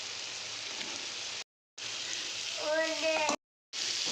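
Potatoes and peas fry in oil with onion, tomato, turmeric, salt and spice masala for a Vidarbha-style aloo vatana bhaji, giving a steady broadband sizzle broken by two short silences, with a bright clinking scrape near the end.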